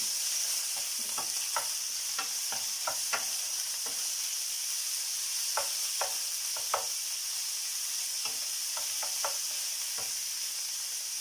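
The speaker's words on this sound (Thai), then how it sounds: "ผัดเนื้อหมูให้สุกนะคะ" Pork stir-fried in a wok for pineapple fried rice: a constant hiss of hot oil with scattered sharp spatula clicks and scrapes at irregular intervals, close by and fairly quiet, no voices.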